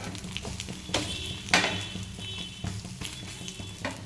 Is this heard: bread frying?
yes